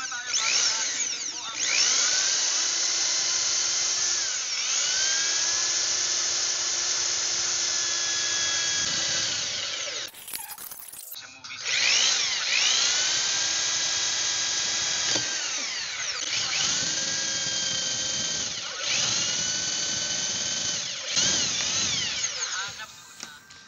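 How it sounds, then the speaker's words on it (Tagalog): A power drill bores through a PVC holster bracket in long, loud, steady whining runs, briefly stopping around the midpoint before resuming with a few shorter pauses. "So next naman mga idol ay magbabarinan na po tayo."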